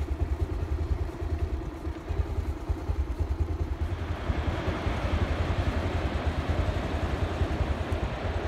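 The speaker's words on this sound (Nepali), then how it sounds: "पछाडि अर्को एउटा बाइक आउँदैछ" A motorbike rides along a mountain road on the way to Dhunche in the Langtang region, its engine throbbing with a steady, close, pulsing putter throughout.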